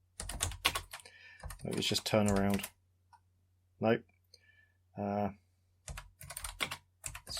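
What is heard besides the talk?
typing on a computer keyboard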